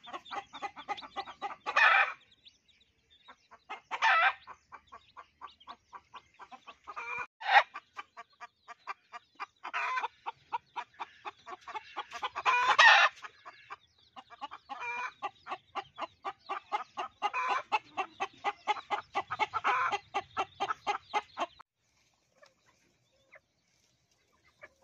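Desi country chickens cluck in repeated rhythmic bursts close by in a quiet outdoor yard under trees, with short pauses between runs.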